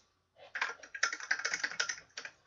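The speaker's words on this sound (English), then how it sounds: "here goes the typing" Rapid keyboard typing starts after a brief silence and runs as a dense, uneven patter of close clicks, with no voices over it.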